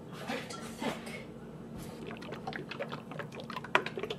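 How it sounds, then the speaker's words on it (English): Water pours into thick homemade oat milk in a kitchen, a soft trickle and splashing over a quiet background, ending with a light clink. "Just gonna add a little bit more water because it is quite thick."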